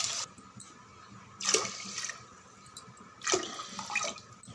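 Water is poured from a tumbler into a pressure cooker holding rice for pongal, two soft splashing pours about two seconds apart over quiet room noise.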